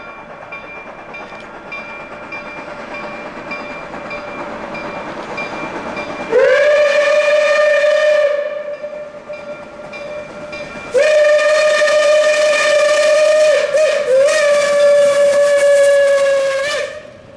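Steam locomotive Reading 2102 passes at Leesport with a loud, sustained whistle blown twice, the second blast long, over a rolling rail rumble and hiss.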